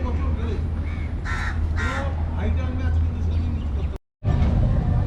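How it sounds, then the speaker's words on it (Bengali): A crow caws repeatedly while perched on a propeller of an abandoned Tupolev Tu-142M at an aircraft museum in Kolkata, its calls close and clear over continuous talking, with a brief dropout near the end. "প্রপেলারের ওপরে এখন কাক বসে আছে।"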